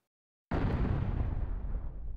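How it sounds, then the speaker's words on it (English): A heavy thud of something striking a wall from outside in the Legend of Legaia video game: one sudden booming impact after a silent half-second, then a long rumbling decay that fades slowly. "That is the sound of something hitting the wall from the outside."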